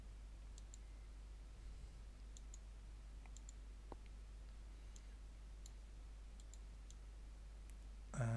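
Computer mouse clicks while editing surfaces in visual building software: sparse, faint, sharp ticks spread irregularly over a steady low hum, with no talking.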